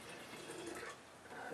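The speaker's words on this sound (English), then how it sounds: "I'm going to go ahead and pour this into our jar" Condensed brewed tea for homemade kombucha pours into a jar in a brief, continuous splashing trickle that stays fairly close and even, with no talking over it.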